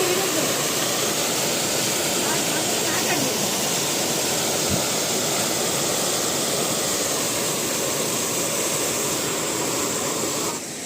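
Jimidi Peta waterfall in Rayagada, Odisha, gives a constant, loud, broadband roar of rushing water, steady and close throughout.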